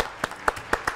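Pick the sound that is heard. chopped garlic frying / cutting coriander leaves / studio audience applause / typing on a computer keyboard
studio audience applause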